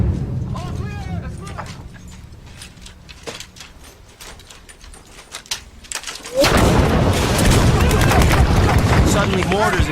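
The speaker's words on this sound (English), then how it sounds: "Suddenly mortars and gunfire are flying in from everywhere." Mortar and gunfire in a battle erupt loud and dense after a stretch of quieter scattered bursts, a sustained roar of fire carrying on to the end.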